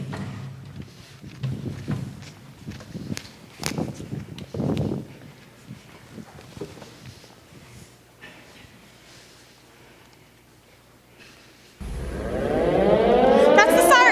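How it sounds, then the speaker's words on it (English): An air raid siren in a theatre play rises loudly and abruptly near the end, wailing upward after quieter stage sounds and shuffling footsteps. "That's the siren!"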